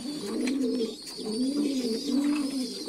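Racing pigeons coo in close, steady, low rolling phrases, several in a row, with faint chirps in the background and no one talking.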